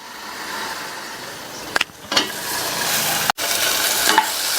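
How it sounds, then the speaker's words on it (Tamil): Tomatoes sautéing in a pan with rock salt give a steady close sizzle, broken by a few stirring scrapes and a brief cut, with no talking. "இது கூட கொஞ்சமா கல்லுப்பு சேர்த்து வதக்கிக்கலாம். தக்காளி ஓரளவு வதங்கி வரட்டும்."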